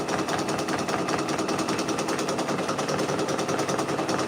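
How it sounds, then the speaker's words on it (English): An embroidery machine stitches out a cherry-design patch, its needle hammering in a fast, even mechanical rhythm, loud and close and running without pause. "I'm gonna let them keep on stitching out"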